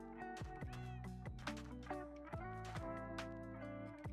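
A cat meows repeatedly in a Minecraft-style video game, the short pitched cries repeating alone over bright, tonal game music.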